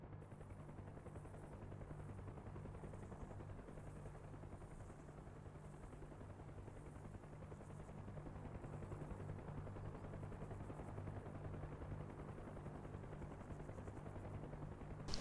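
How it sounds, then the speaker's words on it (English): Helicopter in a flight-simulator game, a steady droning rotor chop with no talk, holding at an even, moderate level throughout. "I can hear a chopper, but I don't know where he is or who he is."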